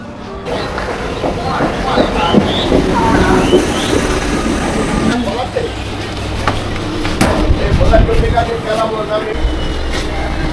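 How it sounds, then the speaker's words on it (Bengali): A Tarakeswar local train runs on a commuter line, with a steady rumble, rattling carriages and periodic rail clatter. Passengers chatter throughout the interior. "বসে পড়লাম ট্রেনে, তারকেশ্বর লোকাল।"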